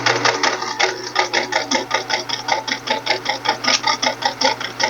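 A sewing machine stitches a short run through two-colour quilt pieces, giving a close, steady rapid needle clatter with an even mechanical rhythm throughout.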